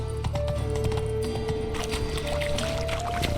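Roach, Geralt's horse in the video game The Witcher 3: Wild Hunt, gallops with steady hoof clip-clops over a sustained game music bed, with a brief whinny possible.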